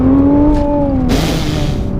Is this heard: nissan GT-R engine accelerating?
yes